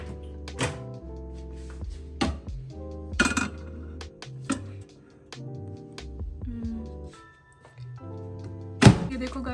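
Homemade pizza going into a microwave: a run of hollow thunks, clinks of a plate or dish, and a door knock, spaced irregularly with quieter gaps and one sharp bang near the end, over faint background music.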